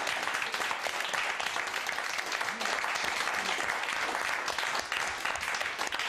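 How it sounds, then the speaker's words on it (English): Studio audience on a daytime talk show giving a sustained, dense round of applause, loud and even from start to finish with no pauses. "Give me a round of applause."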